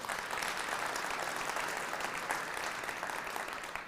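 Continuous crowd applause fills a live State of the City address, many hands clapping at a full, even level throughout with no talk breaking through.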